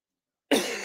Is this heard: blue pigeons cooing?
no